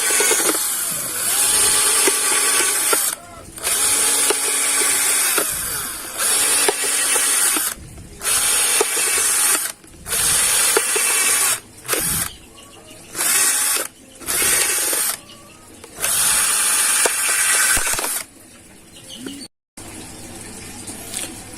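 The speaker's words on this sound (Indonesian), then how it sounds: "Tapi kalau ada bor seperti ini mungkin akan lebih bagus." An electric drill whirs through plastic in repeated bursts, starting and stopping about eight times, loud and close, with brief quiet gaps between runs.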